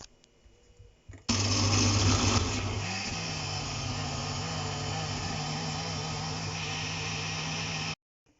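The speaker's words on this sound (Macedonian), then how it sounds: "можете да го ставите во блендер" A kitchen blender whirs loudly and steadily through a cooked, softened, soupy mixture for an Indian dish, starting abruptly after a brief quiet moment and running at constant strength until it cuts off.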